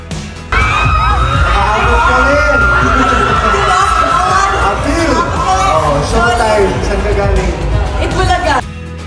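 Fans at an SM City Pampanga mall show scream and cheer loudly as two stars head to the stage, a dense sustained roar of high-pitched shrieks and crowd babble.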